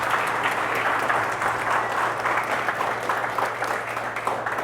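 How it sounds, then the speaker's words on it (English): Conference audience applauding at a speakers' event, a steady dense wash of clapping that holds evenly for the full stretch with no talk over it. "Give yourselves one more round of applause,"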